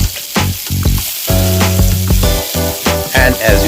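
Chopped onion, red chilies and cumin powder frying in hot oil for dal mastani while being stirred, a steady sizzle with scraping stir strokes over a tonal musical background.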